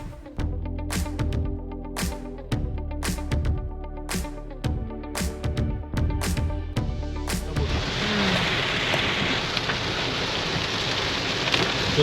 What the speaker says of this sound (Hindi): तो दोस्तों जैसे हमने मलकापुर को पीछे छोड़ा है ना, तब से बारिश शुरू हो गई है।